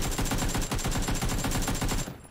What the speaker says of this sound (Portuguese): Estou aqui com a mira 4x, vou mirar e atirar.